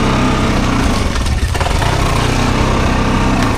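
An ACCESS 860 ATV quad bike engine drones loud and near while driving around through a swamp. The buzzing roar holds steady throughout.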